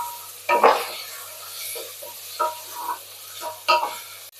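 Mint and coriander leaves are sautéed for kurma in a pan, with three distinct scraping, clanking stirs of a metal utensil over a soft low sizzle.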